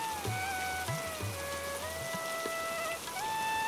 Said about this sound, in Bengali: আর যে বৃষ্টি শুরু হয়েছে, মনে হচ্ছে না আজকে বৃষ্টি থামবে